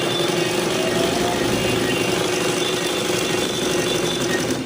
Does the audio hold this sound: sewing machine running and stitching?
yes